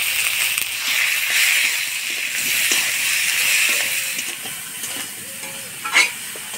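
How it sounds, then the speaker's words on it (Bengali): Eggplant pieces fry with turmeric and salt in a pan, giving a loud, steady close sizzle with soft stirring scrapes and a sharp clink near the end. "এবার বেগুনগুলা হলুদ লবণ দিয়ে ভাজি নেব।"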